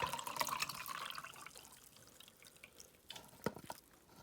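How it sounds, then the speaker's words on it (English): Boiled orange peel water is strained into a container, heard as faint splashing and dripping, louder at the start, then scattered drips and a few sharper splashes near the end. "Now we'll strain this and keep it in a container."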